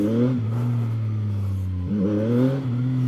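A CFMoto 675NK motorcycle engine droning steadily near the microphone, its pitch holding then dipping and rising again as the rider rolls on the throttle during power wheelies, with no talk over it.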